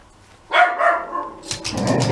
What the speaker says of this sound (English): Daisy barks at the window, Chip runs and barks at the back door.